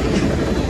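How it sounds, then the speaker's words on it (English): A CSX freight train, symbol M634, rumbles past close by at Sturgeon Point Road in Derby, New York, a loud, dense, continuous roar of rolling cars. "So symbol on this train is CSX M634."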